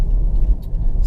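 A BMW E60 with an N47 diesel engine and a TDI tuning box cruises at about 30 mph in 4th gear, a low, steady engine rumble heard from inside the car for about a second.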